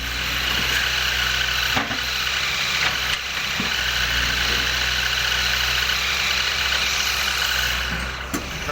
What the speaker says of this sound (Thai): ดำสองคัน รถไถคันหนึ่งแล้วก็ รถไมโครคันหนึ่งครับ